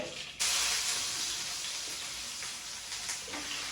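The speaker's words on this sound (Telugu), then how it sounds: "నూనె వేడైందండి తాలింపు వేస్తుంది అనమాట" Tempering spices hit hot oil in a home kitchen, with a sudden loud hiss and sizzle that starts abruptly and then holds steady, close up, no voices.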